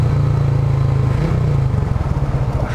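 A motorcycle engine idles loudly and close by as the bike is brought to a stop and parked, with a steady low throb that turns choppier toward the end.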